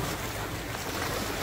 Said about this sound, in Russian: Волны вроде небольшие